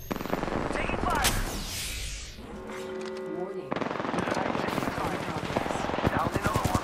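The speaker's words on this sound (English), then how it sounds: "Taking fire!" Dense bursts of automatic gunfire in the battle royale game Apex Legends rattle loudly and almost continuously, mixed with other game sounds and a voice speaking.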